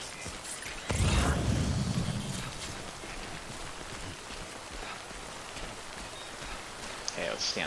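Rain falling in the video game Death Stranding, a continuous hiss of drops broken by a loud low rumbling burst early on and scattered clicks and knocks later.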